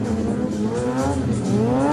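A drifting car in a freestyle demonstration, its engine holding a steady high note while the tires squeal continuously for two seconds, loud and close, with no talking.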